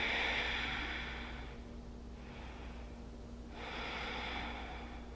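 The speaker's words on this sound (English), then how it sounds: "Deep breaths." Slow, deep breathing during a yoga pose, a long airy inhale followed by a pause and another breath, close and soft with no talk.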